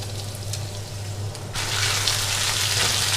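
Potatoes and atap rice frying with spices in a pan give a steady close sizzle that swells louder and brighter partway through, with no talking.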